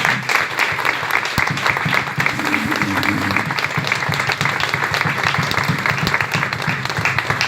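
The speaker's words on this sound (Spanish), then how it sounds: "otro fuerte aplauso" Church congregation applauding loudly during a Spanish-language sermon, a steady dense wash of clapping filling the whole stretch with some crowd voices mixed in.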